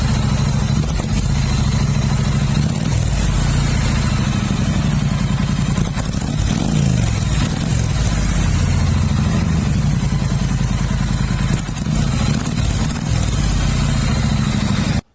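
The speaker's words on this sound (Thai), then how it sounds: "ฟังเสียงเครื่องยนต์นะครับ" A 2018 Triumph Bonneville T100 Black motorcycle idles close by, its engine a loud, steady, throbbing rumble with faint mechanical clatter that runs unbroken throughout.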